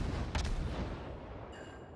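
Battleship New York firing its guns in the World of Warships video game, heard as a loud, rumbling broadband blast that fills the whole moment and slowly fades.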